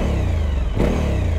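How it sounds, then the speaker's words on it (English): A 2021 Suzuki V-Strom 1050 XT V-twin engine with a large stock Euro 5 exhaust, loud and close, a low throbbing idle that rises in a brief rev partway through before settling back. "Typical V-twin noise."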